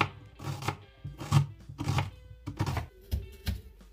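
A knife chops an onion finely and rapidly on a cutting board, a quick irregular series of soft taps close by.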